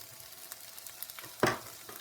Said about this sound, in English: you just want to fry those for a few minutes